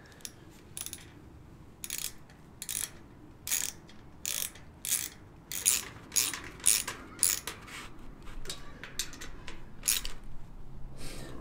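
A 10mm socket ratchet tightens bolts on a globe-style metal fire pit. It gives bursts of crisp, close clicking with short pauses between strokes, repeated steadily throughout and heard alone.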